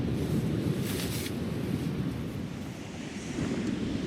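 Strong wind buffets a deserted beach at a winter-chilly campsite, a steady loud roar with gusty swells and surf washing beneath, continuous and close to the microphone with no voices.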